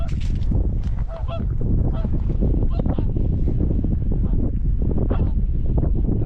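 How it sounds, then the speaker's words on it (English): A pair of swans call and squabble beside a trout-fishing water, their harsh honking loud, close and almost unbroken, overlapping in rapid bursts throughout. "With the backdrop of a pair of swans having a domestic"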